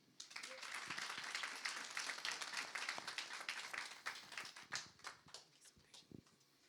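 An audience at a women's banking launch applauds after a speech, dense rapid clapping that holds steady, then thins into scattered claps and fades out.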